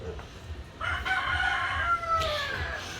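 Large brown-egg laying chickens on a family property crow and cluck nearby, a rooster's drawn-out cock-a-doodle-doo rising over soft background clucking, with brief talk underneath.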